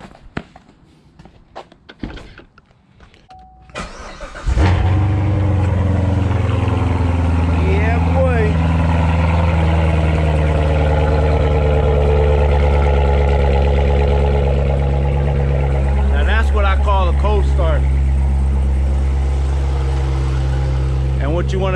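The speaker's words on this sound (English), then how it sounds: "Start this bad boy up." A Corvette C7 Z06 engine cranks and catches after a few quiet seconds, then settles into a loud, steady, deep idle rumble that continues without a break.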